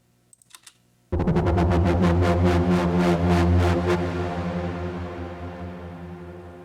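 A house track sound heavily squashed by a Distressor-style compressor plugin swells in after a brief quiet tick, holding a dense, even, pulsing tone that slowly fades out.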